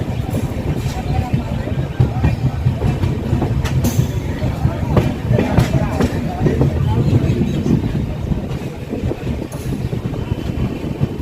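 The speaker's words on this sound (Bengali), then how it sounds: "দর্শক এই মুহূর্তে প্রবেশ করছে হলদিবাড়ি স্টেশনে ঐতিহ্যবাহী দার্জিলিং" Darjeeling Mail train rolling into Haldibari station, a steady broadband rumble of wheels and carriages with faint clicking, continuous and fairly loud throughout.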